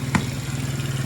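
A kids ATV engine, fresh starter and carburetor fitted, idles steadily up close with a low, even throb and one brief clack near the start.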